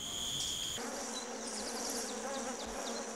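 Wasps buzz in a close, continuous hum, with several individual insects whining past and shifting pitch over a steady droning bed.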